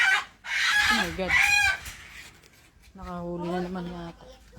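Free-roaming chickens at a rural bamboo hut home in Bataan, with a short burst of clucking followed by a longer drawn-out call, close and fairly loud, mixed with people talking.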